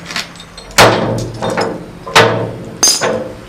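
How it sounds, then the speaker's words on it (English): Metal securing chains are unhooked and taken off a truck load, giving several sharp clanks and rattling impacts spaced irregularly, each ringing briefly, close and loud. "Take the chains off."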